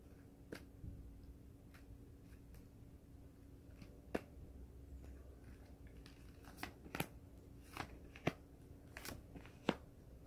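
Tarot cards shuffled and drawn: a scatter of sharp, faint card snaps and flicks spread irregularly over a quiet background, no talk.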